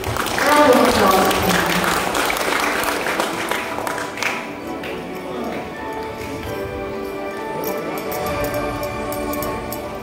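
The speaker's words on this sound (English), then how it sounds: "Round of applause." Applause at a high school graduation ceremony in the Philippines, a dense crowd clapping loudly at first, then thinning and fading over several seconds, with a voice talking over it.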